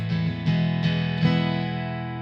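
Fender American Acoustasonic Telecaster strummed with an acoustic-like tone, a few chords struck roughly every half second and left to ring and decay, clear and close with no talking.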